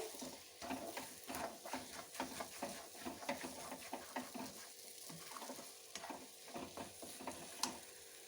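Semolina halwa being stirred in a kadai, with a spoon scraping and clinking repeatedly against the pan while the mixture sizzles softly in ghee, close and steady with no talk.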